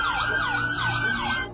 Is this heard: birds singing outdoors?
no